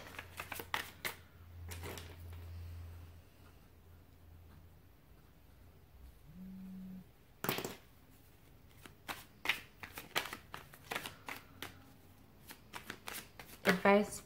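Tarot cards are shuffled and handled near the microphone, giving soft riffling bursts and quick flicks and taps in irregular clusters, with a person talking at times.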